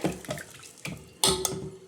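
Water is poured into a toor dal sambar mixture, splashing in a few short uneven bursts close by, with one louder splash near the end.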